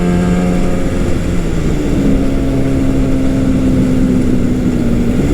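A 1969 Yamaha R3 350cc two-stroke motorcycle engine drones loud and close while riding, holding a steady buzzing tone that shifts pitch slightly as revs change, with wind rush beneath it.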